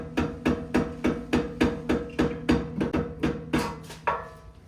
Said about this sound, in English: you can just hammer it while pulling it out and it should come right off